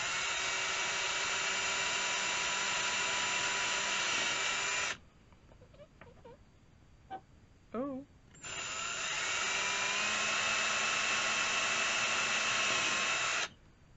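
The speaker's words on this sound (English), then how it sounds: "Now, I'm not going to make you sit here and watch me drill all these holes." A power drill bores holes in a recycled food can held steady on a towel, with two loud, sustained whining bursts of drilling separated by a quieter gap with faint knocks and handling sounds.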